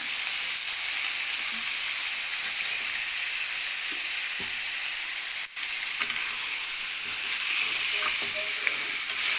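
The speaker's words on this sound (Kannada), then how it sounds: "ಚೆನ್ನಾಗಿ ಫ್ರೈ ಆಗಲಿ. ಎಣ್ಣೆಲಿ ಚೆನ್ನಾಗಿ ಫ್ರೈ ಆಗಲಿ." Tomato frying in hot oil gives a steady, bright sizzle throughout, with occasional faint clicks of stirring and a brief break in the hiss partway through.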